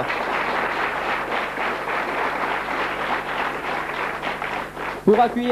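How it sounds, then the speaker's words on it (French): Studio audience applause on a 1992 French lottery TV show, an even wash of clapping held steady, then broken near the end by a sudden voice and a musical sting. "Nous allons aussi profiter de ces applaudissements pour accueillir"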